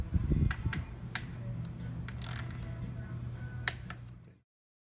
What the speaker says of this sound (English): we'll go through and tighten them until the torque wrench starts to click